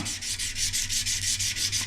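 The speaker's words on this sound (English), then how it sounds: "I'm just gonna start sanding it back." Steady abrasive sanding on steel, a feather Damascus blade wetted with WD-40, a rhythmic back-and-forth rasp repeating quickly and closely, with no voices.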